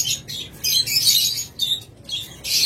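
A confirmed egg-laying breeding pair of pet birds calls in bursts of shrill, high chirps and squawks with short pauses between, close and fairly loud.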